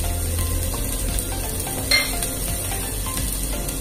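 Six cloves of finely chopped garlic sizzle in a tablespoon of oil in a pot for chicken soup: a steady, close, crackling fry with one brief utensil clink midway, no voices.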